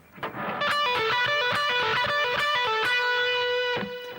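Overdriven electric guitar plays a quick minor pentatonic lick of distinct sustained notes with bends and a final held note, loud and close with no voices.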